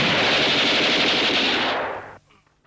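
A loud, sustained burst of rapid machine gun fire lasting about two seconds, then cutting off abruptly into near silence.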